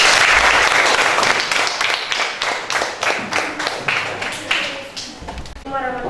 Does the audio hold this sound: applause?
yes